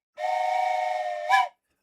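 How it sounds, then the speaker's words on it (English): A steam train whistle in a video game blows a single sustained, loud blast for over a second, rising into a brief sharper peak before it cuts off, with no one talking. "we're going to do a few trains whistles"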